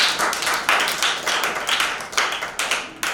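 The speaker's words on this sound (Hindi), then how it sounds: "तालियां" A small group claps for a child who has just recited at a Father's Day gathering, giving a sparse, uneven burst of hand claps with distinct individual slaps.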